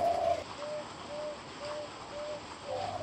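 A spotted dove, the tekukur, gives a soft rhythmic series of about five low coos, evenly spaced and fairly close, over a faint steady background with no talking.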